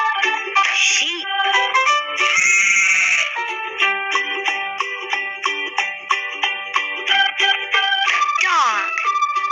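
Bright, repeated sheep bleating calls in a quick series in a children's animal-names game, sounding somewhat synthetic or toy-like, with warbling tones and little background noise.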